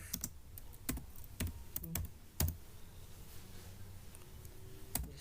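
Linux terminal command being typed on a computer keyboard: irregular, close keystroke clicks with a few sharper taps, over a quiet room hum and with no speech.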